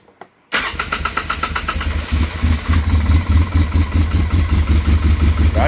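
An old quad ATV with its air box removed cranks, catches and fires up, then settles into a loud, steady, close-up run with a rhythmic pulsing beat and no talking.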